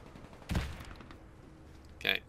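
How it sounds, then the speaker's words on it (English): Two single shots from a tap-fire gun in the Warface video game, a muffled thump followed later by a sharper crack, each short and separated by quiet. "this gun I've got at the moment is a tap fire gun"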